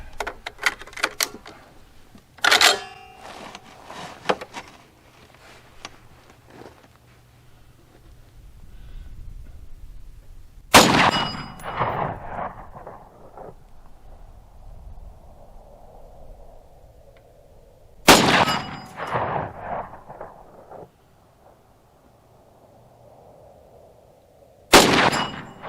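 A Ruger Mini-14 rifle firing PMC ammunition outdoors at about 110 yards, heard as a few loud, sharp, widely spaced shots, each trailed by a long echoing ring.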